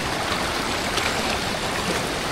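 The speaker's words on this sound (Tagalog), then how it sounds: "saka yung lagaslas ng tubig" Steady broadband rush of water pouring at Pinamun-an Falls in Nagcarlan, Laguna, a close, constant roar with no voices over it.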